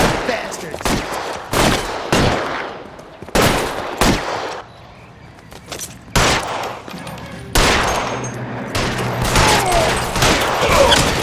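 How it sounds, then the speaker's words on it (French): Gunfire in the 1940s detective game L.A. Noire: loud, sharp shots crack out one by one and in short clusters, separated by brief pauses, ending in a sustained, rapid volley of fire. "Allez, on tire sur tout ce qui bouge."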